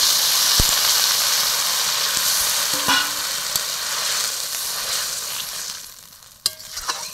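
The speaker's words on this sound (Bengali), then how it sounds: "পটলটা মশলার সঙ্গে ভালো করে কষিয়ে নিয়েছি, এবার দিয়ে দিচ্ছি পরিমাণ মতো জল।" Water poured over pointed gourd and potato frying in spices sets off a loud, steady hiss of steam and sizzling, with a few light clinks of a utensil near the end.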